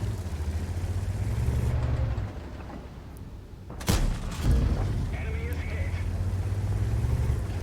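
A tank cannon fires once in World of Tanks: a single sharp, loud blast with a short rumbling tail over a steady low engine drone.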